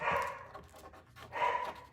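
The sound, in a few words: dogs barking and panting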